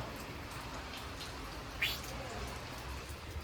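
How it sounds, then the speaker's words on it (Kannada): Light rain falls on an open home terrace as a faint, steady hiss of patter with no other clear sounds. "ಮಳೆ ಇನ್ನೂ ಬರ್ತಾನೆ ಇದೆ ಗೈಸ್"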